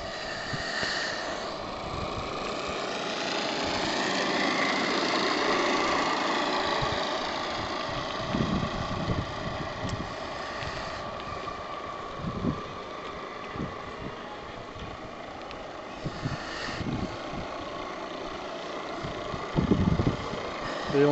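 A PM Research 8 cc oscillating steam engine runs aboard a model steam launch out on the water, a steady mid-pitched mechanical hum heard from some distance, with scattered clunks and outdoor background noise throughout.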